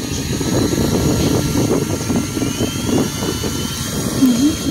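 A purple GOOJODOQ GFS007 turbo mini fan with a 4000 mAh battery runs close by, giving a steady, rushing whir of airflow that stays constant throughout.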